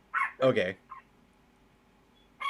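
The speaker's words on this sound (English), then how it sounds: "Sorry about my dogs. They're gonna bark." Household dogs let out a few short, sharp barks at irregular intervals, separated by quiet gaps, with a person briefly speaking nearby.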